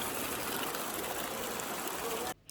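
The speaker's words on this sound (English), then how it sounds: "the sound of the water rushing down the hill" Continuous rushing warm spring water flows steadily downhill, a dense hiss that cuts off abruptly near the end.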